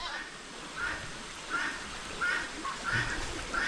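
Ducks quack in short bursts, four or five calls spaced about half a second apart, moderately close, over a steady outdoor background hiss.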